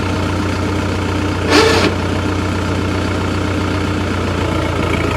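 A Scout TE-504 50 hp mini tractor pulls off in high fourth gear without added throttle. Its engine holds a steady low idle-like drone with one short louder surge, and no one speaks.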